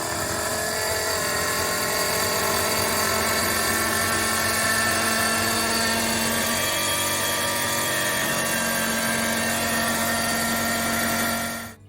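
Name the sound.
pump pumping antifreeze into a Volvo diesel yacht engine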